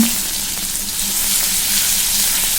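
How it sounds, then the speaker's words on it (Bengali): Chopped tomato fries in a pan with crushed cloves, cinnamon and cardamom, giving a steady, close, dense sizzle throughout with no talking. "টমেটোটাকে বেশ ভালো করে ভেজে নেব"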